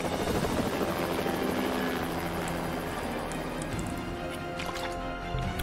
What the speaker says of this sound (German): Der Typ steigt den Hubschrauber ein